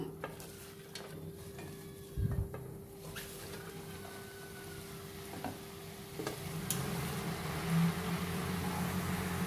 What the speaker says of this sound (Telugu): ఇప్పుడు ఇందులో మనం కడిగి శుభ్రపరచుకున్న ఆకుని ఈ కడాయిలో వేసేసుకుందాము